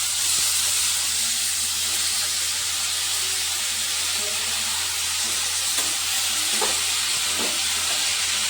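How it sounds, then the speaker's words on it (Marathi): Cooked white beans being stirred with turmeric in a hot pan, giving a steady close sizzle with light scraping touches throughout, and nobody talking. "मस्तपैकी असं मिक्स करून घ्यायचं."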